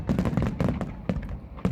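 New Year fireworks at Sheikh Zayed out in the desert, a rapid run of sharp pops and bangs in irregular bursts, fairly close and loud, with no voices.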